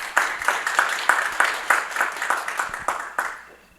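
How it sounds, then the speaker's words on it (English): A small audience at a genocide victims commemoration event claps in a short, fairly near round of applause with a loose, rhythmic pattern, tapering off and fading out near the end. "So if you guys can give her a round of applause"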